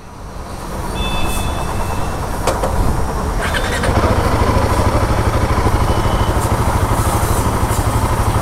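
A Royal Enfield Himalayan 450 motorcycle starts up, with a few clicks before the engine catches and then settles into a steady, loud, close idle thrum.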